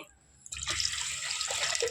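Water pours steadily into a pot for sugar syrup for gulab jamun, a continuous close splashing stream that starts after a brief quiet moment and runs on, with no talking.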